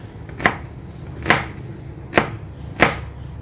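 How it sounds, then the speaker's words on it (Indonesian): A knife chops shallots on a board for a German currywurst, four crisp, evenly spaced strokes close by with no talk. "Kita potong bawang merah"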